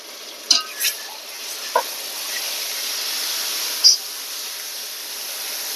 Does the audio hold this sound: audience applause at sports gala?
no